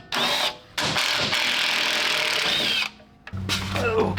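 A power tool, probably an impact or drill, whirs in loud bursts while removing the skid plate from a 1995–2004 Toyota Tacoma. Two short bursts lead into a long steady run, then it stops briefly before picking up again.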